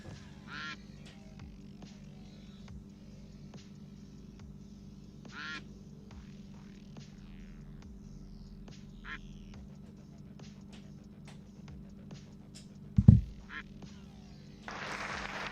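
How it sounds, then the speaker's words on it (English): A duck quacks in short, scattered calls over a low steady hum, with one sharp loud burst near the end and a thicker noisy stretch closing it out. "My duck looks hungry."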